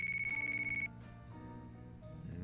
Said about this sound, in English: we're going to get a phone call